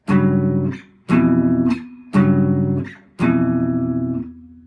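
Four sustained piano chords voiced low in a muddy register, each struck and held about a second, loud and alone with no talking.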